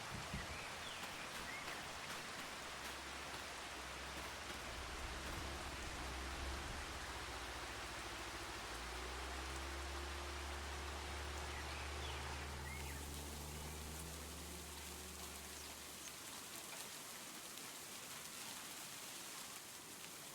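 Rain in the video game Farming Simulator 25, a steady, quiet hiss of falling rain throughout, with low rumbling tones underneath partway through and a lighter, thinner rain sound toward the end.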